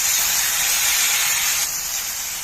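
Bread slices dipped in batter sizzle steadily on a hot pan, a close, even hiss that holds for a couple of seconds and eases slightly toward the end.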